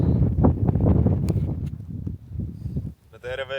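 Wind gusting across a frozen lake during an ice-fishing trip by moped, a steady low rumbling buffet on the microphone under close conversation, easing briefly near the end.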